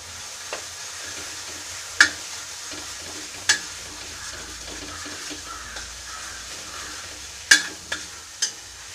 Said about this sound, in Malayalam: ഒരു മീഡിയം ഫ്ലെയിമിലേക്ക് പഴം വഴറ്റിയാൽ മതി